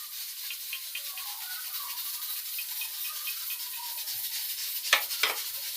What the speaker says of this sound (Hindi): इसकी भी अच्छी तरह भुनाई करेंगे, ताकि थोड़ा सा ज़्यादा नरम नहीं करेंगे प्याज और टमाटर को